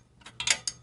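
Ratchet wrench loosening an exhaust bracket bolt near the foot peg mount on a Harley Shovelhead: a few quick, close mechanical clicking bursts, growing louder toward the end, with no talking.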